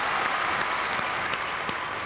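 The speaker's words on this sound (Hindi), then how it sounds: "जोरदार तालियां फॉर दीज वंडर गर्ल्स" A studio audience applauds for the girls' team of contestants on a family game show, a loud, dense, steady burst of clapping with a few sharper individual claps standing out.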